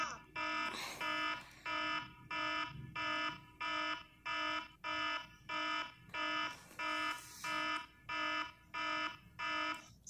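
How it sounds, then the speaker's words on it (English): A phone alarm goes off indoors in a darkened room, sounding as a loud, steady repeating pattern of bright electronic beep bursts, about a dozen evenly spaced pulses, with brief talk faintly underneath. "Now her phone is going off."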